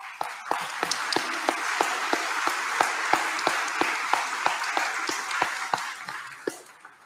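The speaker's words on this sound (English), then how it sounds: "We can give God a round of applause," A church congregation gives a steady round of applause during a deliverance prayer service, rapid overlapping claps with a few sharp louder hits, moderately close and continuing alone for several seconds.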